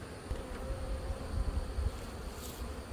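Honeybees droning steadily inside an opened hive started from a package, a soft continuous low buzz with no voices over it.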